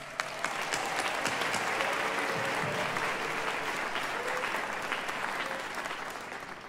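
A concert audience at a high school all-star band concert applauds the band directors: dense, steady clapping fills the hall loudly from start to finish, easing slightly near the end.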